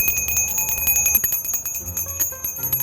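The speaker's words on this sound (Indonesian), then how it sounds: "Suara lonceng. Siapa sih yang ngebunyiin?" A hand bell is rung rapidly and loudly close by, giving a dense, continuous metallic jangle with sustained high ringing overtones for the whole few seconds. There is no talking.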